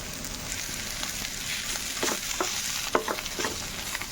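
Bitter gourd masala fries in a pan with a continuous close hiss, while a spoon stirs it in several short scraping strokes.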